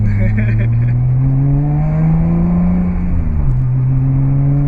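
An H6-swapped Subaru Legacy accelerates with a steady, loud six-cylinder drone that climbs smoothly in pitch, drops briefly as it shifts, then climbs again, heard from inside the car.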